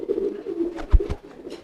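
A pigeon coos close by: a single soft, throaty, rolling coo phrase with a deeper pulse in the middle, clear and alone.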